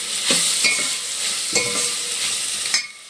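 Boiled raw jackfruit kebabs, mixed with egg kebab powder, fry in hot oil with a continuous close sizzle, broken by scraping stirs.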